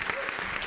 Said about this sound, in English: Can we give a special round of applause for Ila Gandhi?